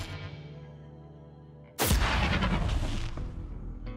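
Riser-and-explosion sound effect from Borderlands 3, processed with a pitch modulator: a tonal buildup cuts into a sudden loud blast, then a dense roaring tail that holds for over a second before thinning out.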